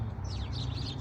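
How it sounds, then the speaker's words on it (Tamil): Sparrows in New Jersey chirping outdoors, a few thin, rapid tweets over a steady low background rumble, brief and moderately faint. "குருவிகளுடைய சத்தம் கேட்குதா?"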